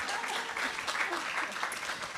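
An audience at a STEM summit claps in a dense, steady patter of many hands at moderate distance, continuing evenly for a couple of seconds with a faint murmur of voices underneath.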